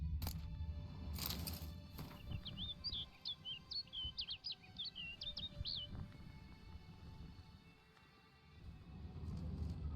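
Bird chirping in The Witcher 3: Blood and Wine, a quick run of bright, high tweets repeating for several seconds over a steady ambient game backdrop of low rumble.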